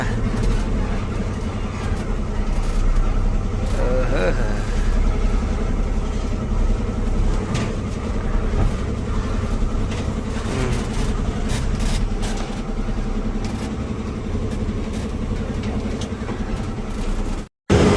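Container trucks rolling out through a gate, a steady low diesel rumble and idling drone from several heavy vehicles, fairly close, with no talk.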